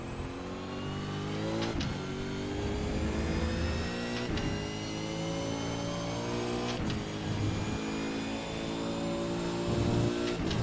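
A V8 Supercar at Silverstone in iRacing revs hard through the gears, its engine note climbing steadily in pitch between three sharp upshifts, loud and continuous with no talk over it.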